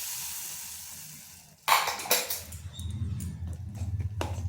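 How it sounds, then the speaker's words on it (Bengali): Hot oil with cumin seeds poured into semolina batter for sujir pakoda, a sudden close sizzle that bursts up, fades, then crackles on in uneven pops as it is stirred. "এরপর এই ব্যাটারের মধ্যে এই যে তেল আর জিরা যেটা গরম করলাম দিয়ে দিচ্ছি"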